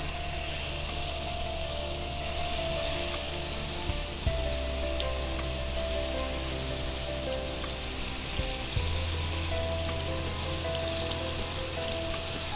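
Marinated chicken pieces fry in hot oil with a steady, close sizzling hiss, while a low mechanical hum with shifting tones runs underneath the whole time.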